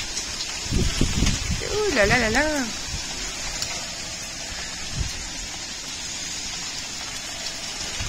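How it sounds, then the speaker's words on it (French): Heavy rain with strong wind pours down steadily as a dense, constant hiss filling the whole clip, while a person speaks over it briefly near the start. "Là il pleut super, super fort et il y a énormément de vent."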